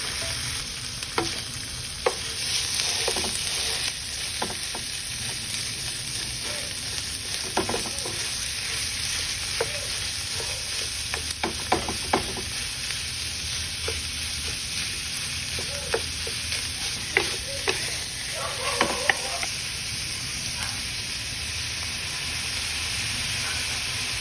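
Garlic, onions and ground pork sautéing in a pan, a continuous bright sizzle broken by scattered scraping and stirring clatters throughout.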